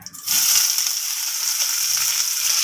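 Finely chopped onions with slit green chillies dropped into hot oil, bursting into a loud, steady sizzle after a soft clatter at the start and continuing evenly throughout.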